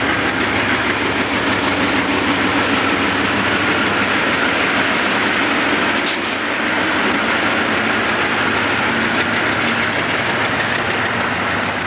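GE diesel locomotives of the Reading Blue Mountain & Northern railroad rolling past close by, a loud sustained rumble of engine drone and wheel noise on the rails with no voices.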